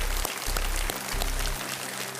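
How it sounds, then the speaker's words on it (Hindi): Studio audience on an Indian TV quiz show applauds to welcome a contestant's husband, a steady broadband clatter of clapping that fills the whole stretch at moderate loudness, with a low hum dipping in and out beneath it. "एक बार तालियों के साथ इनका स्वागत किया जाए।"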